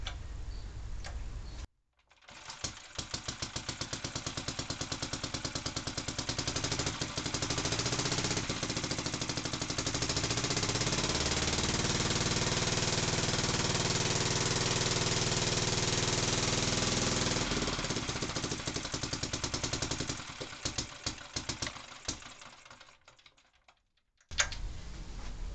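A Barford Atom engine runs steadily after a restart with its throttle and governor recently adjusted, a loud continuous rapid chugging that holds for about twenty seconds, then dies away and cuts off.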